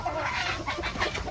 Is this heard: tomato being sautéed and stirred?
no